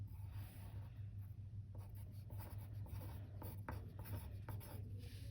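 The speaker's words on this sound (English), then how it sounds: "We're just going to write Gaston." Writing on paper during a reading lesson produces a continuous close scratching and rubbing of strokes with occasional taps, steady and fairly quiet over a low background hum.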